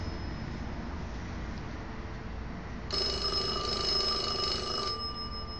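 An analog telephone on a phone-system extension rings once in a sustained electronic burst, loud and close, over a steady background hum, with no talking.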